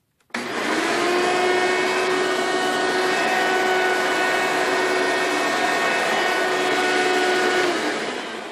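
Hoover upright vacuum cleaner switching on and running with a loud, steady motor roar and high whine, close by and continuous for several seconds before winding down slightly, with no talking.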